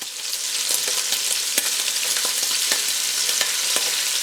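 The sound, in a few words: sautéing ingredients for one-pot Cajun shrimp sausage pasta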